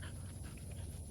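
Josie, a retriever dog being trained on blind retrieves, pants steadily with quick rhythmic breaths close by, alone without any talking.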